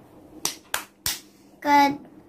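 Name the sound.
children clapping in the Tepuk Rukun Islam clapping chant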